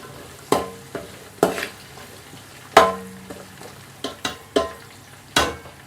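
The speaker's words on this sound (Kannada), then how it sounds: "ತೊಳೆದಿರುವಂಥ ಕ್ಯಾರೆಟ್ ಇದು ಹೆಚ್ಚಿ ಎಣ್ಣೆಗೆ ಫ್ರೈ ಮಾಡ್ಕೋಬೇಕ್ರಿ" Washed, chopped carrots frying in oil for veg dum biryani, a low sizzle broken by several sharp, irregular clanks and scrapes of a spatula against the pan, close up and without speech.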